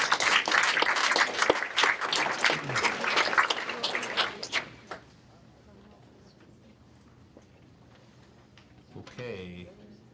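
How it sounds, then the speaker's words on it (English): Audience applause at a biotech startup showcase event, dense clapping for about five seconds that stops abruptly, leaving a quiet room with faint shuffling and a brief voice near the end. "Let's give them a round of applause."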